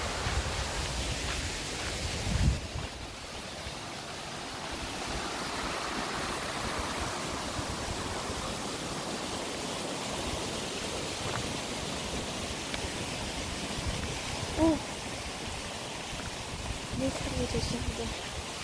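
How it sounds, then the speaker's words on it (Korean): Steady broadband rush of a mountain stream on Baekyangsan, swollen after rain, flowing over rocks, continuous and fairly close, with a couple of faint voices or knocks in the background. "계곡의 물소리가"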